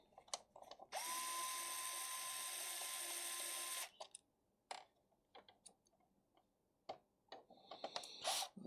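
A small power screwdriver whines steadily for about three seconds while unscrewing screws from the bottom of a gaming PC, followed by scattered clicks, taps and handling noises of tools and parts close by.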